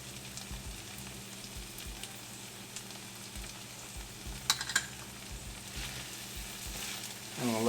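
A tadka with turmeric sizzles and fries in a pan, a close, steady crackling hiss with a few sharper pops and brief stirring, and a voice coming in at the end.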